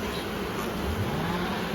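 Honey bees swarm around a hive frame while comb is trimmed, giving a steady, dense buzzing drone that fills the whole stretch at an even level with no talking.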